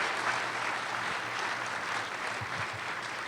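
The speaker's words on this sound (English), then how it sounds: "I think a round of applause is due to all four of our debaters" Steady applause from a debate audience for the four debaters, a continuous, soft, even patter of many hands at a moderate distance.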